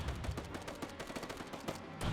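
Rapid machine-gun fire rattles continuously in the WW1 strategy game Between Empires, with overlapping bursts over a dense background of battle noise and a heavier burst at the very end.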